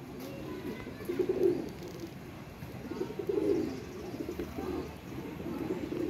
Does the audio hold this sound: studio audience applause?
no